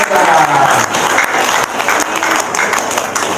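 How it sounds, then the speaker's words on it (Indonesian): A crowd applauds steadily at a talk about paying for school, dense clapping at full strength throughout with a faint voice underneath. "Tepuk tangan dong."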